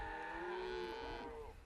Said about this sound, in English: these cows moving back against the cows that are coming towards them